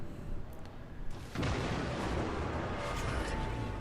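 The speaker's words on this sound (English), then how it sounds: "Shooting some AP at me." Naval guns fire armour-piercing shells in World of Warships, a deep boom landing at about one and a half seconds and ringing into a rumbling tail, with faint thuds earlier under a low background hum.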